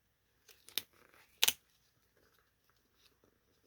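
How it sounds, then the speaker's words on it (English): A paper card being folded by hand for a Z fold stamped card, with a couple of crisp crinkling creases against near silence. "And you can always fold the card."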